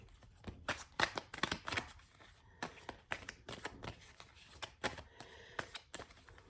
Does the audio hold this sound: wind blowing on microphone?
no